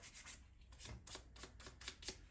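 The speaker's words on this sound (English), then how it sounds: "I'm just going to clean up these contacts with 1000 grit sandpaper." Fine 1000 grit wet and dry sandpaper rubbed over car battery contacts on a Vauxhall Insignia, a quick series of soft, close scratching strokes in a steady back-and-forth rhythm.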